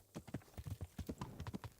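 Hooves of a horse in Kingdom Come: Deliverance clip-clop at a brisk walk, a quick irregular patter of soft, close thuds with no talk over it.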